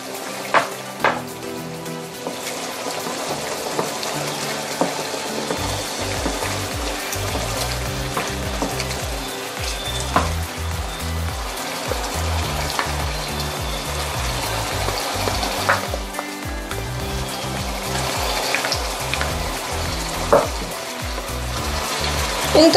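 Tomato paste cooks in a pan for beef kaldereta, sizzling and frying continuously with occasional stirring clatter, close and fairly loud.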